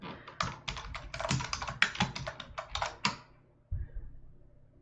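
A session name being typed on a computer keyboard: a quick burst of close, crisp keystrokes for about three seconds, then a softer tap or two as it trails off, no voices.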